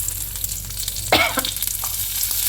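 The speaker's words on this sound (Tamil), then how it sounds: "இது வெடித்த உடனே பூண்டு கருவேப்பிலை எல்லாம் போட்டு" Garlic and curry leaves going into hot oil after mustard seeds have spluttered, a loud steady sizzle with a sudden burst of crackling as they drop in, followed by stirring scrapes.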